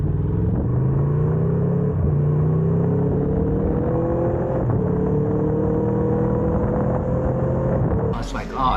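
An Aprilia Tuono V4 1100 motorcycle's V4 engine and exhaust drone loud and close, its pitch climbing steadily through repeated gear pulls, with a brief burst of noise at the very end.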